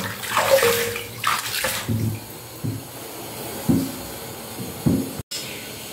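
Water running for a shower, a steady hissing spray with intermittent louder splashes and thumps from someone moving under it, close and alone without talk.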